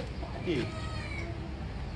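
A cat meows once, briefly, in an outdoor village hangout, mixed into a noisy background with people talking nearby.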